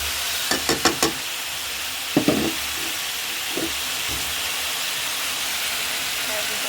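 Chicken cooks in a pan as ground spices and chillies go in, with a steady sizzling hiss underneath a quick run of metallic spoon taps and a few scattered clinks.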